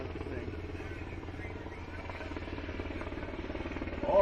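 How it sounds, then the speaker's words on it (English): Helicopters approach over a Veterans Day parade in Hilo, Hawaii, a steady low rotor drone and rumble filling the whole stretch, with a faint voice under it and the noise swelling slightly toward the end. "Oh, we got some helicopters coming."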